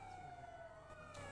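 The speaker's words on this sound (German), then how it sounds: "die Sirene ist schrecklich" Police siren wailing in a GTA role-play game, a steady electronic tone sliding gradually downward with faint harmonics over low background hum, fairly quiet and continuous with no talk.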